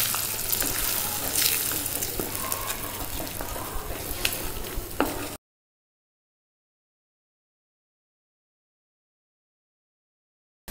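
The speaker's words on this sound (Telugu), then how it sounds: "దీన్ని బాగా కలుపుకుందాం" Cauliflower and egg curry sizzles in a pan while being stirred, a close, crackling frying hiss broken by scraping spoon strokes, which stops after about five seconds and leaves silence.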